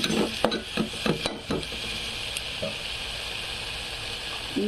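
Onion and tomato frying in a pan for chicken biryani. A few quick scraping stirs open the clip, then a steady, close sizzle runs on alone.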